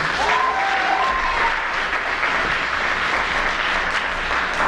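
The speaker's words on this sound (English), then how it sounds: "One more round of applause for our senior solos tonight." A choir concert audience at a Catholic school's Christmas program applauds steadily for senior soloists, a dense, even wash of clapping throughout with a few faint voices above it.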